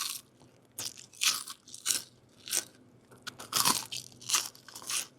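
Crunchy fried fries are bitten and chewed up close, giving a rapid run of about eight sharp crackling crunches in an uneven rhythm with no talking.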